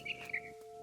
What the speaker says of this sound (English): All I cared about was eating that mama bird.